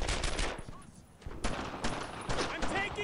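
Battle gunfire from Brothers in Arms: Earned in Blood, a World War II shooter, with bursts and scattered shots crackling throughout, moderately loud and mixed with voices speaking over the fight.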